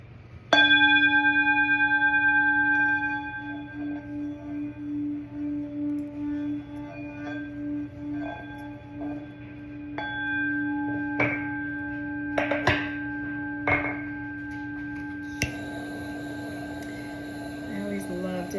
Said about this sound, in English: I always love to hit the bells of some kind, the bowls, the bells, something.